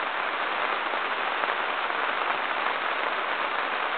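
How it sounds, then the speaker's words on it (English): Steady rain falls outdoors in a vegetable garden, a dense, even hiss of drops that is continuous and moderately loud, with no voices. "there's the rain coming down again"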